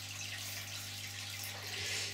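Water siphoned through a hose flows into a Caridina dwarf shrimp breeding tank, a steady close hiss and trickle that swells slightly toward the end, with a constant low hum beneath.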